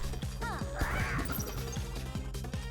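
Cawing of the Loud Bird enemy in the video game Dicey Dungeons, a few harsh calls rising over steady looping game music with rhythmic thumps.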